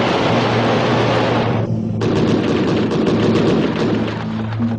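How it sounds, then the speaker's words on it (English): A MiG-27's six-barrel aircraft cannon fires in a loud, continuous roaring burst. The burst breaks off briefly near the middle, then resumes as a steady, harsh rattle. "The powerful 6-barrel cannon deserves a separate attention."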